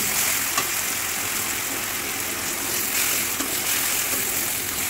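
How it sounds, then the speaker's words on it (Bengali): Ginger-garlic paste sizzles and crackles steadily in hot oil in a pan, with sliced onion pushed to one side, and occasional stirring clicks sound close by. "আদা রসুনটা তেলের মধ্যে ভাজবো বলে, তাই জন্য এক সাইডে পেঁয়াজটা করে দিয়েছি"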